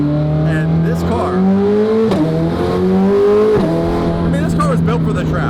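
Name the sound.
carbon-built track supercar accelerating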